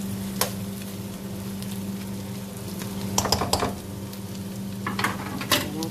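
Nuggets fry in a pan for a pansit pasta dish, with a steady sizzle and low hum under scattered scraping and clinking as a utensil stirs them, close and clear.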